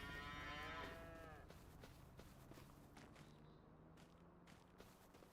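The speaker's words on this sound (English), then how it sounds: "And just along here, we've got our cows." Cows in the Farming Simulator 25 video game moo once loudly at the start, followed by a faint moo later, while steady footsteps crunch along throughout.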